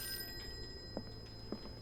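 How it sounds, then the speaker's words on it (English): Telephone ringing in the Call of Cthulhu video game, a faint electronic ring over a steady tonal background hum, with two short soft pulses. "Phone's ringing."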